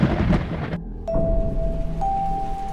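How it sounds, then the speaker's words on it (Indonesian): A storm sound effect of thunder and heavy rain: a deep rumbling burst, a brief drop-out, then continuous rain noise under a faint, steady tone. "Hujan dan petir turun dengan ganasnya,"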